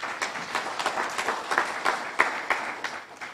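An audience claps at the official opening of the NUST academic year at the Eenhana campus, a loose, uneven round of applause with scattered individual claps standing out over a steady patter, fairly close and moderately loud.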